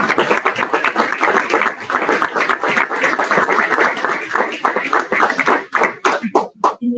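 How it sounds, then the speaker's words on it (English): A school board meeting audience claps for students, loud and close with many hands striking in dense bursts that break into a few scattered final claps at the end. "applause"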